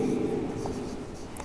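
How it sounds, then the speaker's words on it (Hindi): Marker or chalk scratching across a teaching board while points are written in a chemistry lesson on converting glucose to fructose; a steady close scraping stroke runs through the whole moment without any talk. "फर्स्ट पॉइंट मैं लिखता हूँ यहाँ पे"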